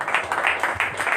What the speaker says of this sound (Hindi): जीवित परमेश्वर दे लई, सामर्थी परमेश्वर दे लई जोरदार तालियां।